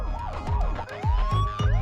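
Police escort siren leading an ambulance carrying a five-month-old baby on a Korean road, a loud, close wailing yelp repeating rapidly in rising and falling sweeps.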